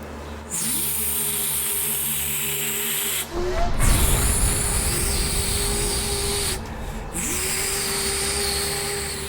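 A Snapper lawn mower engine idles steadily after a carburetor adjustment, close and loud, with a brief surge of revving in the middle before it settles back to an even drone.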